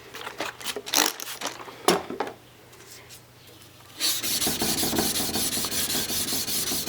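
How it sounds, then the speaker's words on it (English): Forged knife blades being sanded: a few separate rasping strokes and pauses at first, then a loud, continuous abrasive grinding that runs steadily to the end. "I'm going to go ahead and sand these blades"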